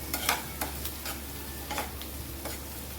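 Green chili, garlic, coriander and ginger paste frying in a pan for soya tikki, with a soft steady sizzle under scattered light clicks and stirring taps, close and fairly quiet, no talking.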